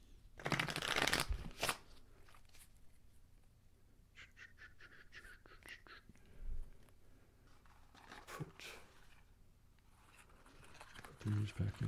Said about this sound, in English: Give them one quick little shuffle.